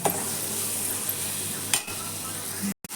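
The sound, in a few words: tomatoes frying in a pan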